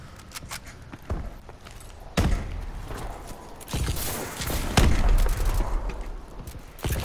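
Gunfire in Call of Duty: Advanced Warfare, with scattered single shots and short bursts plus mechanical clanks in an uneven rhythm, loud and close, with no talking.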